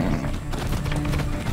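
Horse hooves clip-clopping in the Far Cry 6 video game, a steady run of hoofbeats under a busy, loud mix of game sounds and music with no talk.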